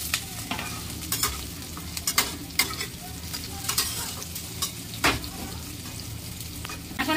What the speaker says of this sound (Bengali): তো ভাজা ভাজা করে নিয়ে এখন আলুগুলো দিয়ে দেবো।